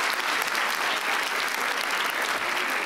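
Full, sustained applause from a live improv comedy audience, thick and even clapping filling the room from start to finish without any break.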